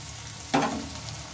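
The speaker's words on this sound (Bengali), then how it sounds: "পেঁয়াজটা একটু কালার আসতে দেব, ততক্ষণ একটু ভেজে নেব, যতক্ষণ না কালার আসে।" Sliced onions hitting a hot pan for fish kalia set off a sudden burst of sizzling that then settles into a steady frying hiss, with no voices.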